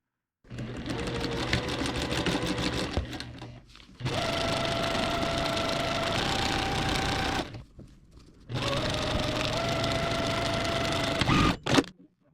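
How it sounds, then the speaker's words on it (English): A sewing machine stitches a quarter inch seam on foundation paper pieced quilt strips, running in three steady whirring bursts separated by brief stops, close and fairly loud. "And you just sew this with a 1/4 inch seam."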